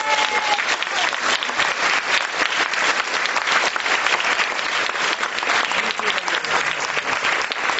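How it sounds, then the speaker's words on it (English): An audience at an arts council gala applauds a chair's introduction, dense steady clapping filling the room without a break. "can I get a big round of applause for Ellen Kodadek?"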